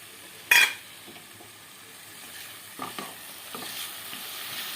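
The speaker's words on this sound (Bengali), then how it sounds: "ভালো করে একটু কষিয়ে নিচ্ছি এইভাবে কষিয়ে নিতে হবে ভালো করে" Tangra fish in spice paste being stirred and sautéed in a pan with a little water: a sharp utensil scrape at the start, then soft, steady sizzling with faint spatula scrapes and light clinks, close and fairly quiet.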